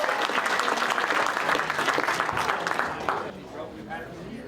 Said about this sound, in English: Give that young lady a big round of applause